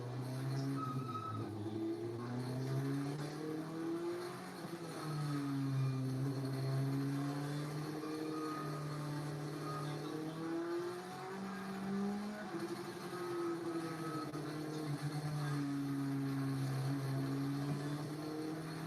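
Race cars run in a pack behind a BMW M safety car at the Bathurst 12 Hour, a steady engine drone that shifts slowly in pitch, continuous and moderately distant with no talk.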